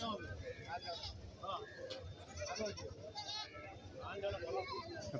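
Several goats bleat repeatedly amid a busy crowd at a goat market in Kerala, overlapping with steady chatter of many people nearby.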